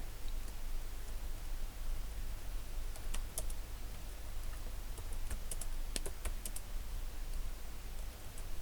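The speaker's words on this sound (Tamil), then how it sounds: "இப்போ எக்ஸாம்பிளுக்கு இந்த மாதிரி அடிக்கிறோம் சென்டர் நேம் ஒன்று அடிக்கிறேன்" Steady clicking of keys on a computer keyboard while text is typed into a PowerPoint slide, a quick irregular run of taps close by over a constant low hum, with no voices.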